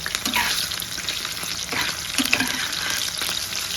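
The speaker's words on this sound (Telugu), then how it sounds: "సో ఇప్పుడు ఇదంతా అయితే వేగనిద్దాం" Homemade chicken starter frying in a little oil, with steady sizzling and occasional stirring scrapes, close and fairly quiet with no talk.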